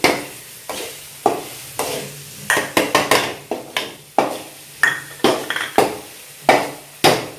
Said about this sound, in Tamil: மஞ்சள் பொடி போட்டது நல்லா வதக்கணும்